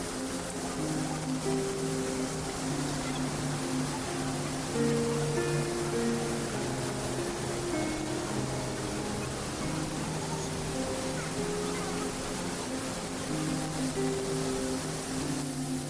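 A swollen Tamsa river in flood after a cloudburst near Sahastradhara, Dehradun, roars as a steady, dense rush of water throughout, with a sustained tonal layer running over it.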